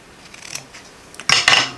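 Scissors snip through the ribbon tails of a bow on a handmade striped and floral thank-you card: a few quiet snips first, then two louder, closer cuts with a crisp papery rasp.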